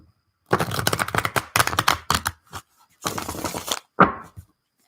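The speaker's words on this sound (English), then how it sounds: "One more shuffle" Quick riffling bursts of tarot cards being shuffled, a fast flurry of crisp flutters, a pause, another run, then a single snap, close up.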